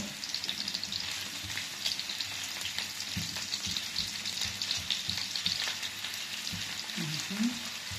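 Onions fry in a pan with a steady, moderate crackling sizzle and occasional soft stirring knocks, close by. A voice is heard briefly near the end.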